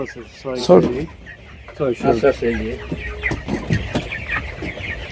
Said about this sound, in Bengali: মুরগি এটা হচ্ছে ছোটো মুরগি এটা হচ্ছে মিডিয়াম মুরগি